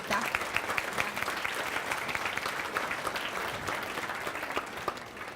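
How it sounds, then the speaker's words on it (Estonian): A conference audience gives sustained applause, a dense and even wash of many hands clapping at moderate loudness from start to finish. "Suur aplaus, palun."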